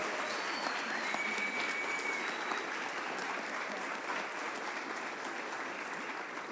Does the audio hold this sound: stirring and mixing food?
no